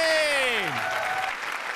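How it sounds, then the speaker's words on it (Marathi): Studio audience applause on a Marathi comedy show stage, clapping under a host's voice that trails off into steady claps. "जोरदार टाळ्या सरांसाठी"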